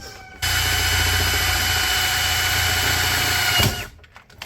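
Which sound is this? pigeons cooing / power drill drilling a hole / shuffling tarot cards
power drill drilling a hole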